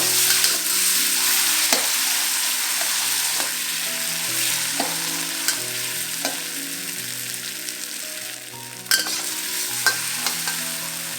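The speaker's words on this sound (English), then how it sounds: "1 tablespoon of douban jiang or chili bean paste. Fry all this till it's fragrant." Chili bean paste (douban jiang) frying in a wok for tofu, a steady loud sizzle throughout with repeated scraping strokes of a spatula, no voices.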